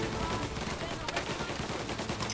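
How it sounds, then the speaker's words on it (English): A Tommy gun fires in the video game Mafia: Definitive Edition, a dense, continuous burst of rapid gunfire that fills the whole moment at steady loudness. "Pick the Tommy gun, come on."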